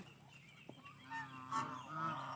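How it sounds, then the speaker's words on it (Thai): A turkey on a farm where goats are kept gobbles in a few rough, warbling bursts that grow louder toward the end, heard fairly close against a quiet background. "ไก่งวงมันร้องไง"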